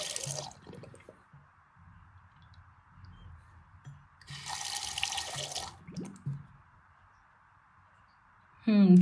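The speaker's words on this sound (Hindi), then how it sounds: "अभी पानी जा रहा है, पाइप में दिखाई दे रहा है पानी" Water drains through a newly unclogged household pipe with a soft running trickle and a few brief louder gushes, while someone talks quietly over it.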